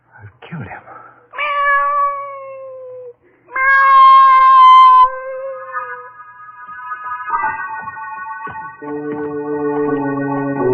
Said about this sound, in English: I'm bringing this cat in here.